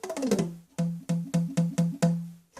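A saxophone pop test: a series of hollow, resonant pops, about six in a row with short gaps, each a low tonal thump that rings briefly; no talking.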